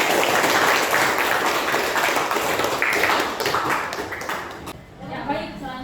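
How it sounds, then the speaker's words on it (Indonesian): Classroom audience applauding after small-group discussion presentations in a teacher training session, steady dense clapping that carries on for several seconds before thinning out. "kita kasih aplaus untuk semuanya"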